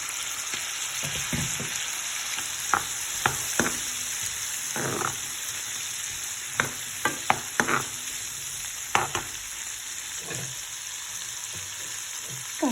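Boiled potatoes frying and being stirred in a pan for a chickpea (chana) dish: a steady soft sizzle with intermittent scraping clicks of the spoon against the pan, close and moderately quiet, no talking.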